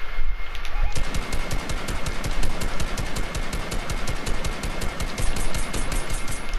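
Rapid automatic gunfire in Fortnite rattles on continuously in dense, evenly spaced bursts after a brief lead-in, loud and steady for several seconds with no talking over it.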